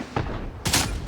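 Tank gunfire in the video game World of Tanks: two sharp, loud cannon reports a half-second apart, the second bigger and brighter, each trailing into a short rumbling decay.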